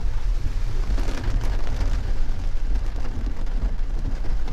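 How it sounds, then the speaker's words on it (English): Heavy rain pours down in Tulum, Mexico, a loud, dense rumbling wash with deep low weight that runs on without pause and without voices. "another heavy rain day"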